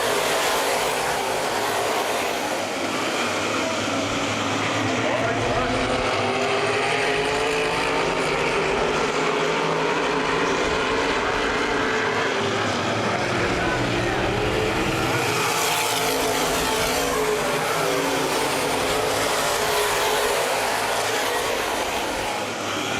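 Open wheel modified race cars roar around a short oval speedway at a Gold Cup twin-50 event, a dense, continuous engine drone with rising and falling pitch as the pack passes, loud throughout with a commentator talking over it.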